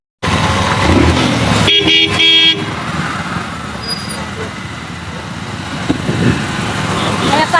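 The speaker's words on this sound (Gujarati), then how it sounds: "હવે પાછા જબ્બર હોર્ન મારે છે" A vehicle horn gives a loud, close, sustained honk of about a second amid road traffic during rain, over a constant rumble of engines and wet road noise, with people talking.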